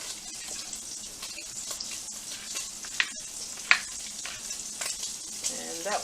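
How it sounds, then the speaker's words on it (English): A pork chop frying in oil gives a steady sizzling hiss with a few sharper crackles and pops. It is close up and moderately loud, with no talk. "I'll go ahead and cook my pork chop."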